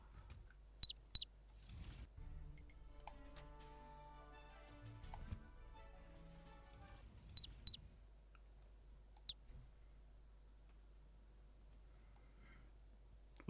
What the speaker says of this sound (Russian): Но птичка что-то дюже громкая.